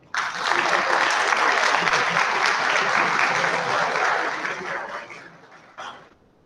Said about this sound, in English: So big clap for them.